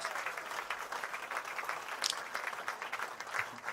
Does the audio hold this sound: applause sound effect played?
yes